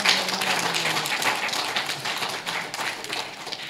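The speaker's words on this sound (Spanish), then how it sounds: "Un aplauso, hermanos." A church congregation claps together in a dense, steady burst of applause lasting a few seconds, fairly loud and close, with a faint tone trailing underneath at the start.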